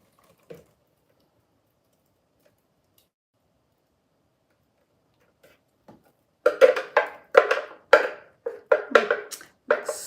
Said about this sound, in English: We can pour in our secret sauce.